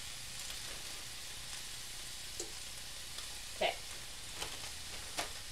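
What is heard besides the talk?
carrots cooking in a pan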